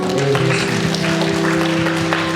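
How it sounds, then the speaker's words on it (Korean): A church congregation gives a round of applause, steady dense clapping throughout, with a sustained musical tone held underneath. "우리 감사와 영광의 박수 올려드리겠습니다"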